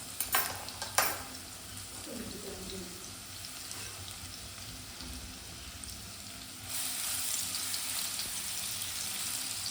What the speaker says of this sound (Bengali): তেল আমি বসিয়ে দিয়েছি। এবার এর মধ্যে একটুখানি রসুন আমি কুচি করে দিয়ে দেব।